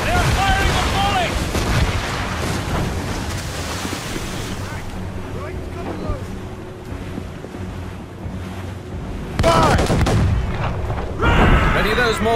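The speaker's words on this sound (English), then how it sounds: "They're firing the volley!" Warship cannon volleys in Assassin's Creed Rogue boom over a steady wash of ocean waves and wind, with heavy bursts of fire swelling near the end while faint voices shout in the background.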